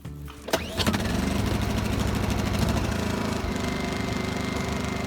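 A Honda EU2000i inverter generator cranks and catches on choke, then settles into a loud, steady running drone with a busy mechanical buzz. No voices are heard.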